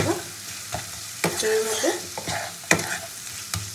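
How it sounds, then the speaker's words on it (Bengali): Onions frying in hot oil in a pan while a spatula stirs them, giving a steady sizzle punctuated by sharp scraping knocks against the pan, with a few words of speech in between. "যতক্ষণ পেঁয়াজটা সেদ্ধ না হচ্ছে, ভাজা না হচ্ছে, ততক্ষণ আমি পেঁয়াজটাকে এরকম নাড়তেই থাকবো"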